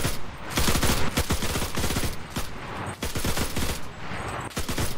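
M2 carbine gunfire in the video game Enlisted, with rapid bursts of sharp, loud shots in quick succession, broken by brief pauses and joined by other battlefield firing.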